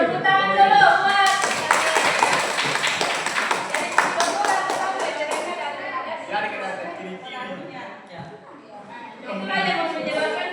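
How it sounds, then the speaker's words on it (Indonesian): A classroom of students claps hands together in a dense, lively burst that gradually thins out, with chatter and voices mixed in throughout. "Oke, tepuk tangan dulu buat."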